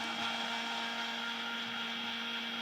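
A mixer grinder runs steadily, blending amla and ginger into digestive shots, a continuous motor whine and hum from start to finish with no talking.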